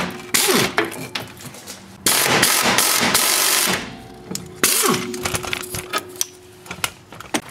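A hand ratchet clicks rapidly in bursts while loosening 14 millimeter control arm bolts on a car, with metallic clatter and short pauses between runs of ratcheting, close and fairly loud.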